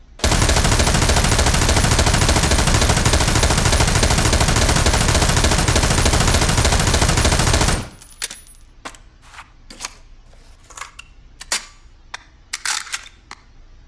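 An M249 squad automatic weapon fires one long, loud continuous burst, unsupported from a standing position, for about eight seconds, then stops abruptly, leaving scattered clinks and rattles of spent casings and handling noise.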